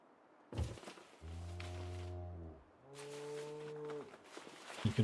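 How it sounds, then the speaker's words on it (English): Two long, low moos from cattle outside in Project Zomboid, the second pitched slightly higher, each resonant and drawn out, with muffled thumps before and after. "You can always hear the cattle outside."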